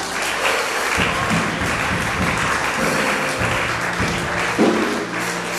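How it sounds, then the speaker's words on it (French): A church congregation at a French-language worship service applauds to acclaim the Holy Spirit, with dense, sustained clapping from many people throughout and a few soft voices mixed in. "Est-ce qu'on peut acclamer le Saint-Esprit?"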